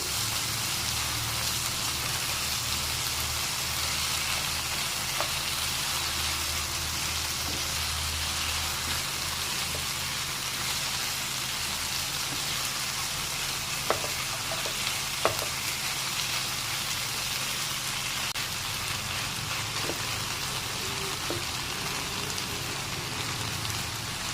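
Zucchini curry cooking in a pan, giving a steady, even sizzle like light rain throughout, with a few faint clicks of a spoon as it is mixed.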